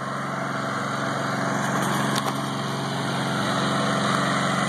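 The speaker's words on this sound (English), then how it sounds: "You got that little engine and that little alternator putting out about 318 watts." A small homemade generator runs steadily, its little engine driving an alternator under load, producing a continuous high-pitched buzzing drone with a constant hum, loud and close with no talking.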